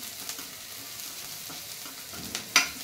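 Onions sautéing in a pan for Maggi noodles give a steady low sizzle with light stirring scrapes, ending in one sharper clatter near the close; no one speaks.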